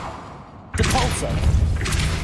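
A Depulso spell cast in Hogwarts Legacy, a sudden loud thump with a swooshing burst that cuts in after near-silence and stays dense and forceful.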